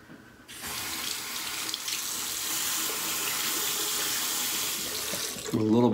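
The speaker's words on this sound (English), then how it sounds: "Put a little bit more water in there." Water runs from a tap to wet shaving soap for lather, a steady bright hiss that begins abruptly, continues evenly, then gives way to a brief different sound at the end.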